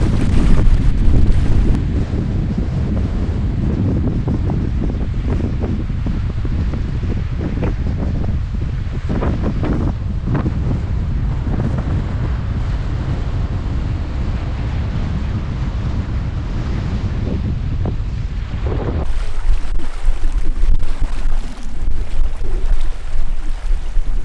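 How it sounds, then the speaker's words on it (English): Strong wind gusting across a lake on a canoe trip, a loud continuous roar buffeting the microphone with washing waves, unbroken throughout and no talking. "But yeah, the wind is just gripping."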